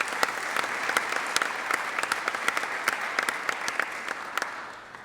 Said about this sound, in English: a round of applause for Jaden Mandel of West Salem High School